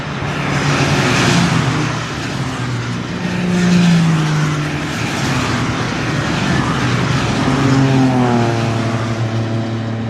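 Citroen C1 race cars roar at the start of a BRSCC 24-hour race, loud droning engines rising and falling in pitch as they pass, with no one talking.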